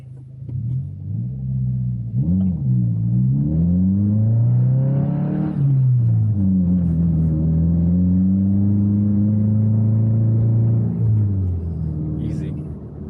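A Subaru WRX accelerates up a snowy hill, its engine droning close and steady with rising and falling pitch through gear changes, while someone talks over the rumble.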